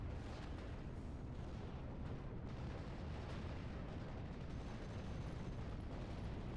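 Rumbling bomb blasts and battle explosions in the WWII strategy game Steel Division, set in Normandy, form a dense, continuous wall of heavy low booms with scattered sharper bursts and no clear gaps.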